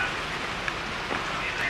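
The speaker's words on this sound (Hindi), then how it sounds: "बारिश हो रही है" Steady rain falling in Uttarakhand, a soft, even hiss of drops on surfaces throughout, fairly quiet with a couple of faint taps.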